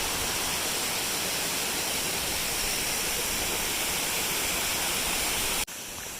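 Waterfall in Kippens, Newfoundland, roaring as a steady, loud broadband rush of falling water that fills the whole clip and drops away suddenly near the end.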